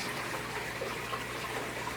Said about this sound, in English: this is the water flow that pushes from the AquaClear 110 500 gallons per hour